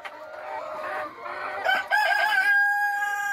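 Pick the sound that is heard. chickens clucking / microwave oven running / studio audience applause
chickens clucking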